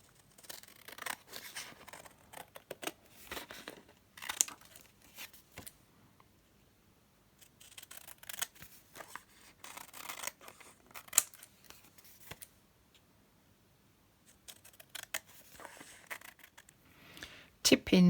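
Scissors cut a paper craft piece out in a long run of crisp snips at close range, coming in clusters with short pauses. A quiet voice talks between the cuts.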